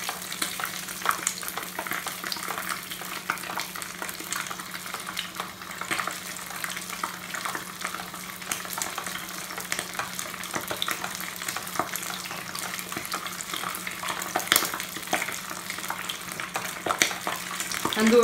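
Minced-meat brik sizzles and crackles steadily in a hot oiled pan, a constant close frying hiss with small pops and a few soft stirring scrapes, no voices.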